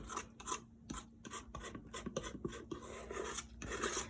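A hand tool scrapes cold wax medium mixed with tar gel off an art surface in repeated short rasping strokes, close and fairly quiet, with no voices.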